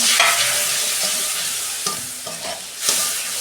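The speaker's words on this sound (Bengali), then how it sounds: "মশলাটাকে আমি ভালো করে কষতে নেব।" Masala of chili powder, turmeric, cumin and coriander with a splash of water is stirred in a pan, giving a soft steady sizzle broken by a few scraping strokes of the spoon.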